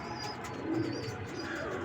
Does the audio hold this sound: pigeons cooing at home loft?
yes